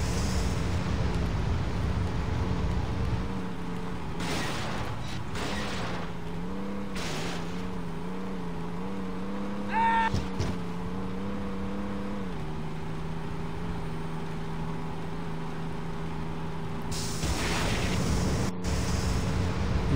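A car engine in Saints Row speeds up with a steady, rising drone and shifting harmonics. It runs loud and close for the whole stretch, with brief bursts of passing noise and a short air-brake-like hiss.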